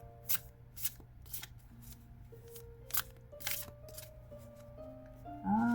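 A deck of tarot cards shuffled in repeated bursts of riffling and slapping, with short gaps between passes, close and moderately loud, ending in a brief louder rustle.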